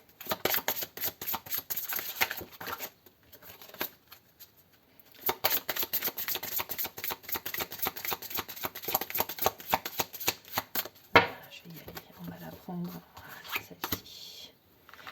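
Tarot cards are shuffled close up in a series of quick riffling bursts and soft scrapes, with short pauses between rounds.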